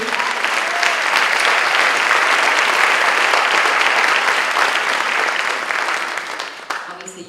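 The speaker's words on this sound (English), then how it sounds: "you already know that since you're clapping" Sustained applause from a large audience at an awards ceremony, dense and steady clapping for several seconds that tapers off near the end.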